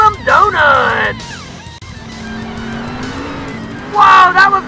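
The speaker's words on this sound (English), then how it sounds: "And he follows up with some awesome donuts." A monster truck spins donuts in Monster Jam Steel Titans, its engine droning loudly with shrill tire squeals rising at the start and again near the end, while a person talks over the noise.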